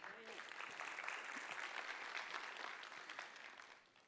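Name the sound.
conference audience applause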